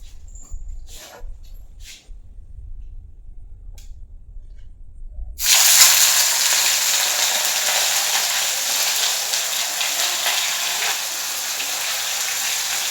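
Bhetki fish hits hot oil after a near-silent start, setting off a sudden, loud, close sizzle that keeps up as a steady spattering hiss until the end.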